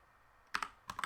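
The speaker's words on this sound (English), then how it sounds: "If I can type" Computer keyboard typing: a short burst of a few close, crisp key clicks in two quick clusters, with quiet room tone in between and no voices.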